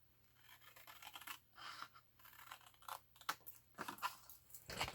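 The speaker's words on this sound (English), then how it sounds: "I'll just mark it with a pencil and try and cut it with my scissors as straight as I can." Scissors cutting paper along a pencil line: a series of close, quiet snips and crisp paper-slicing strokes at an irregular pace, growing a little more frequent toward the end, with no talking.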